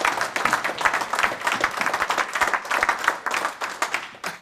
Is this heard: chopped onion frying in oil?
no